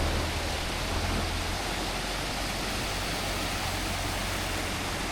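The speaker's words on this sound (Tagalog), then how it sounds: "Ang lakas ng agos oh." A strong river current rushes steadily in a dense, loud wash of water noise that stays unbroken and close, with no other sounds standing out.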